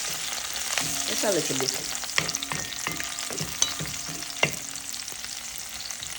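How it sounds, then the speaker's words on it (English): Pepper and thyme sautéing in a pan for corned beef, a loud close sizzle with repeated clinks and scrapes of a stirring spoon, and a brief spoken phrase over it. "Now I'm gonna go in with my pepper and thyme. Saute that"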